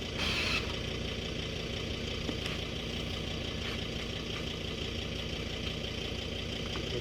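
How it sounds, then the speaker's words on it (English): A 4WD vehicle engine running steadily at low revs while reversing with a caravan hitched on an off-road track in Litchfield National Park, a constant rumble with no talk. "reverse the vehicle."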